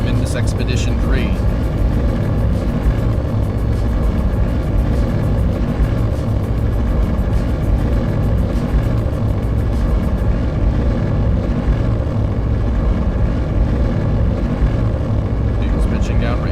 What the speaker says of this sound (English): Engines full power. And Gondor 9, Block 2, liftoff, carrying the lander from Indus Expedition 3.